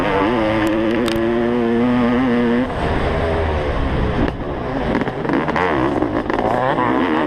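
Engine roar from a 32-year-old Honda CR500 two-stroke and modern dirt bikes racing side by side up a hillside track, loud and continuous with rising revs, under a race commentator's voice.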